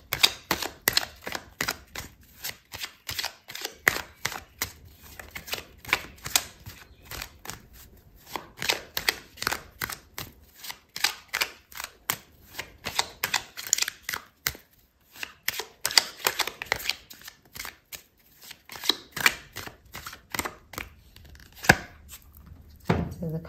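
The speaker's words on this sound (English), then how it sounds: "so I'm going to pull out another card for you" Tarot cards are shuffled in long bursts of rapid riffling flicks, pausing between rounds, before a single card is drawn from the deck; close and alone, with no talk.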